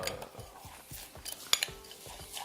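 A utensil scrapes and taps against a bowl while a pistachio almond filling of Iranian pistachios, brown sugar and egg whites is mixed, with soft rhythmic clinks and a couple of sharper knocks, quiet and close.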